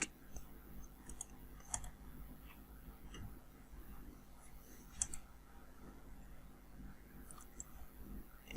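Quiet, crisp computer mouse clicks come at irregular intervals while virtual machine network settings are being changed, over a faint steady background hum.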